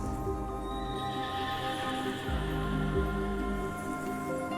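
Lunapus, a horse-bodied beast from the video game Honkai Star Rail, gives a loud whinny with a clip-clop of hooves beneath, set against a sustained, tonal musical backdrop.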